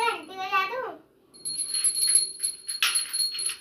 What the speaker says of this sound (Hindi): घंटी बजा दूं?